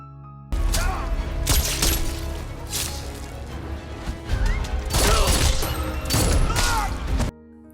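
Gunfire in an action film fight scene, several sharp, loud bursts crackling in clusters, with a couple of quick volleys toward the end over a dense, rumbling soundtrack.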